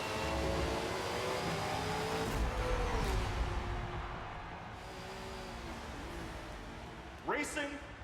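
Race cars in Forza Motorsport 7 roaring past, a loud sustained engine drone with rising and falling pitch sweeps and a sharp revving pass near the end, under a narrator's voice.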